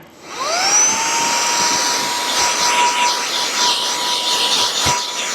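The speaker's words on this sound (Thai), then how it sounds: "นี่คือเครื่องดูดฝุ่นแบบอเนกประสงค์ ดูดได้เป่าไ ด้" A multipurpose vacuum cleaner that can both suck and blow spins up with a rising whine, then runs at a loud steady roar with rustling as it pulls in fabric scraps, a couple of soft knocks near the end.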